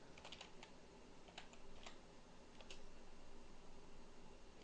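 A channel name is typed on a computer keyboard in quick, light, irregular keystrokes, close and fairly quiet over a steady fan-like hiss, with no talking.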